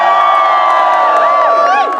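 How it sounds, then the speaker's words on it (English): A live audience at a Shakespeare-themed fall renaissance festival stage show cheers and whoops loudly, a dense, sustained crowd roar with shrill rising shouts throughout. "Lords and ladies, I'm Will Shakespeare, which means you should cheer now."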